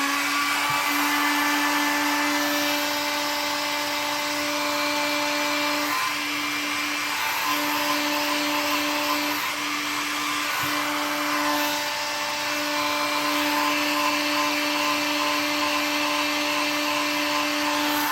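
A heat gun blows steadily over epoxy resin for a 3D bloom piece, a continuous whirring hiss with a fixed motor hum that holds throughout, dipping briefly a couple of times as it is moved; no talking.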